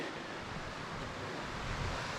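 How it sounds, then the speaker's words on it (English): Small waterfall on a forest creek near Payson, Arizona, a steady broadband rush of falling water that stays even and fairly close throughout, with no voices over it. "Little baby waterfall. Just walking along the creek."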